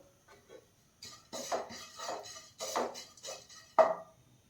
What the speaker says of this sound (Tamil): எண்ணெய் இல்லாமல் வெறும் சட்டியில் கடாயில் வந்து அப்படியே வறுத்து எடுத்துடலாம்